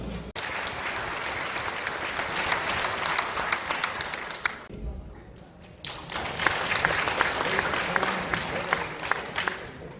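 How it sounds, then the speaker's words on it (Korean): An audience at the 2022 Punggi Ginseng Expo launch ceremony applauds with steady clapping, broken by a brief dip of a second or so, then swelling again with a bit of crowd murmur. "큰 박수 부탁드리겠습니다"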